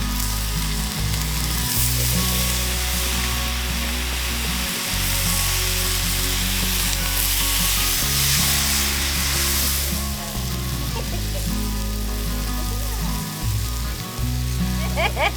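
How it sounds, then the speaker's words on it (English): Loud, steady sizzling of food frying in a pan over a propane stove outdoors at high altitude in Utah, continuous throughout with crackling spatter and a low background rumble. "There's the sizzle."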